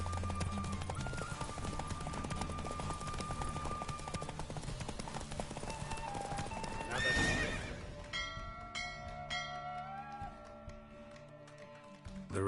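Roach the horse gallops in a race in The Witcher 3, with steady hoofbeats and a neigh under game music and ambience, then chimes and bells as the race ends.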